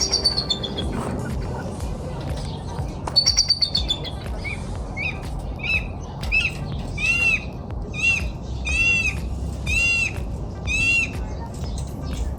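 A crow calls repeatedly in nasal, harsh caws, a steady series of bursts through the later part, with other bird chirps at the start over a continuous background rumble.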